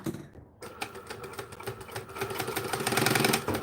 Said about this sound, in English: I'm also going to take this and sew it right here